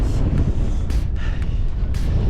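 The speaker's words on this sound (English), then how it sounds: "Should I not bother because it's so windy?" Strong wind buffets the microphone on a hilltop trail run, a loud continuous low roar with gusty bursts and no voices.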